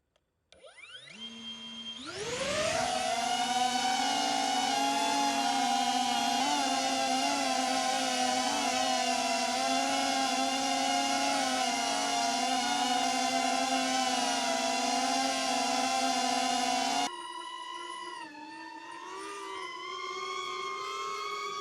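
A DJI Avata 2 FPV drone spins up and flies nearby, a loud steady high-pitched whine of propellers and motors holding for about fifteen seconds before dropping to a lower, wavering hum as it changes speed.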